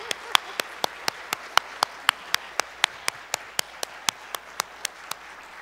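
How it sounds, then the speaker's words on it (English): A single pair of hands clapping in a slow, even rhythm of about twenty sharp claps, close and alone, during a church sanctuary service before the closing hymn. "Let's give him one more round of applause"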